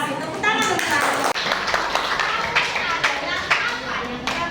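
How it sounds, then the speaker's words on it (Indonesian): A classroom of children claps for a student named Naur, a dense patter of hand claps running steadily throughout, with scattered kids' voices mixed in. "Tepuk tangan untuk Naur."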